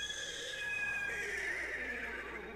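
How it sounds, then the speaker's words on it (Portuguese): A horse whinnies in the video game Destiny 2, a long wavering neigh held steadily and fairly loud over a quiet ambient game backdrop. "O cavalo!"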